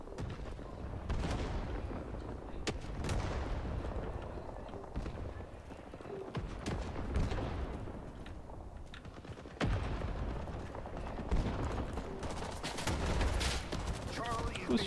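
Gunfire in the video game Rising Storm 2: Vietnam, set in a jungle, rings out as scattered sharp shots over a dense, continuous battle din, with voices talking through it.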